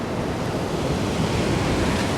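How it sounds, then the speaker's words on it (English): Atlantic Ocean surf breaking on a beach, a steady, loud broadband wash of waves with some wind noise, continuous and close, with no voices. "That's the Atlantic Ocean."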